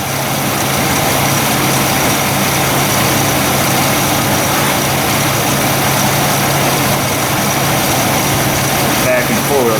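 A Chevy S-10 4x4 truck engine idling with a noisy drivetrain, a constant loud, close rumbling drone with a steady hum that holds unchanged throughout.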